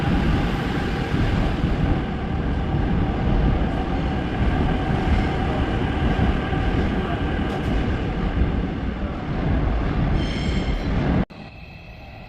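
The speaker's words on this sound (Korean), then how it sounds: "복잡했던 열차도 종착역을 지나니 드디어 여유를 찾았습니다." A subway train rumbles steadily after passing the terminal station, a loud, continuous low roar and faint high squeals, then the noise drops abruptly near the end.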